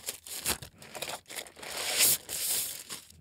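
Plastic wrapping crinkles and tears as a Deity TC-SL1 timecode slate is unwrapped, close crackling bursts and rustles in an uneven rhythm with a sharper tearing swell near the middle.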